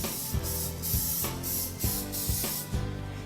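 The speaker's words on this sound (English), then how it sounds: "so I'm gonna spray that, get it ready for the batter. I use the butter spray." Butter-flavored cooking spray misted onto a Pyrex glass baking dish in several short hissing bursts, close and loud, with brief pauses between sprays.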